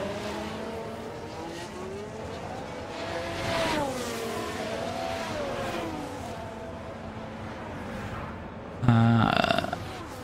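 Formula 1 race car in a video game, driven to warm its tyres, with a steady engine drone that rises and falls in pitch through gear changes, followed by a brief sharp burst near the end.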